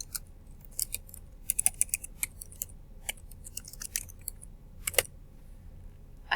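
Keys on a computer keyboard are tapped while an event title is entered in a calendar: sparse, irregular, close-up clicks come singly and in short bursts over a quiet background, with no talking.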